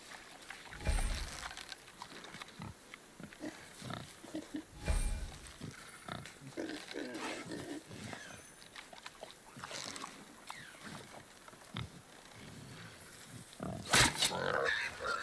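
A wild boar in the video game God of War grunting and snorting in short, rough bursts, with game sound effects and people talking over it, rising to a louder outburst near the end.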